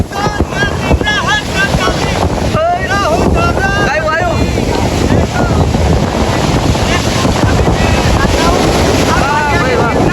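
Strong wind roars steadily across the microphone on a boat near Anjar, Kutch, with the boat engine and water noise beneath and brief voices early on.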